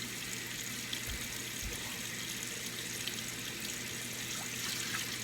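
A kitchen tap runs while raw chicken is washed, a faint steady stream of water splashing into a bowl, quiet and continuous throughout.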